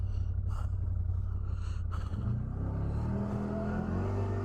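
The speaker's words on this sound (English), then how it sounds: "let me try my high gear out in these trails" A CFMOTO ZForce 1000 UTV with a 1000cc engine accelerates in high gear along dirt trails, its engine droning loud and close and climbing in pitch as it pulls harder.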